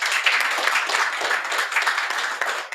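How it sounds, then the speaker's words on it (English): An audience applauds a speaker at a women-in-technology event, a steady, dense wash of clapping from many hands that holds from start to finish with no talk over it. "Another round of applause,"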